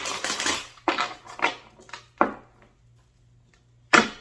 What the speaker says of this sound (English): I'm going to give these cards a quick shuffle.